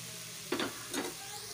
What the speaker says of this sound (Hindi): अब हम इसमें थोड़ा सा फ्राई करने के लिए गाजर डालेंगे, शिमला मिर्च